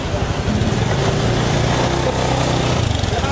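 A motorcycle engine runs at a motor shop, a loud, close, rumbling drone that stays steady through the whole stretch, with people talking over it.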